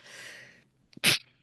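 A single loud, sharp sneeze from an adult close by during a Washington, D.C. interview, preceded by a quick inhale and following a stretch of faint hiss.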